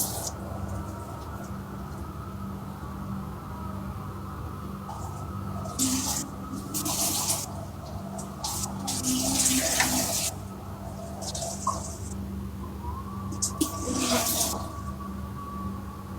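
Water runs steadily with several bursts of splashing and pouring, fairly quiet and close, with no talk over it.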